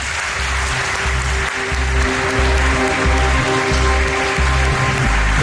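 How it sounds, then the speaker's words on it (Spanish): Audience applause at a talk, a dense, loud, sustained patter of many hands clapping, with steady rhythmic low thumps of music running beneath. "Os pido un aplauso para ellos."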